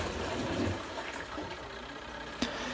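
Sky twin tub washing machine running with its lid closed, a steady low mechanical hum and rumble with a faint churning, one brief knock near the end.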